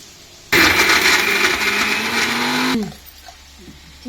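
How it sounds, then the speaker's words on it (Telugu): A kitchen mixer grinder whirs loudly for about two seconds while grinding lightly fried ivy gourd pieces with salt into a coarse chutney, then cuts off abruptly, leaving quiet. "ఇప్పుడు మిక్సీలో వేసేసుకుంటున్నాను."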